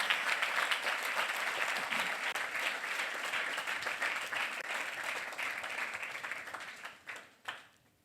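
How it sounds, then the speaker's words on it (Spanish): A church congregation applauds together in sustained, dense clapping that stays loud and steady before tapering off into a few scattered claps near the end. "Aplauda al Señor en esta preciosa hora."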